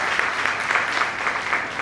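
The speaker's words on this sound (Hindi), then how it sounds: "चलो तालियां भाई के लिए" Steady applause from an audience at an indoor company meeting, dense continuous clapping at an even level with no speech over it.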